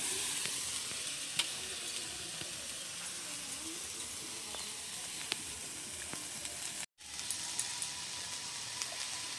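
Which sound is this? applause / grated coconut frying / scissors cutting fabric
grated coconut frying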